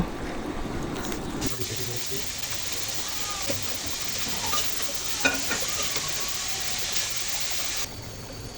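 Red spinach leaves and cooked shrimp fry in a pan, a steady broadband sizzle with a brief low rumble at the start and a few faint clinks near the middle, ending abruptly before the final second.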